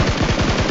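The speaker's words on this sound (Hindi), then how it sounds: "लेकिन तभी सामने से फायरिंग होती है" Rapid automatic gunfire in the video game PUBG, a loud, close burst of about seven evenly spaced shots in under a second with no talk over it.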